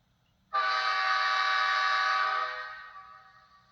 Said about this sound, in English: a quick sound comparison to the repeato horn on the FL9